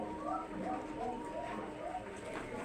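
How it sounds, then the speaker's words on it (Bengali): Pigeons coo in a loft holding about a hundred and fifty pairs, a soft rolling murmur of overlapping coos repeating steadily at low volume, with a voice talking over it. "এখন মোটামুটি আমার কাছে দেড়শো জোড়ার মতো কবুতর রয়েছে"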